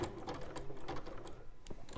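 A domestic sewing machine runs a variegated zigzag stitch, giving a quick, even mechanical chatter of needle strokes, close and fairly quiet, with no talking.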